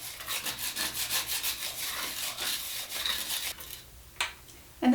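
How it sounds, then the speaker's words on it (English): Detail brush scrubbing calcium buildup off a shower head: steady, close, rhythmic bristle rubbing for about three seconds, then a pause and a few scattered strokes. "use your detail brush and use that to give this a scrub"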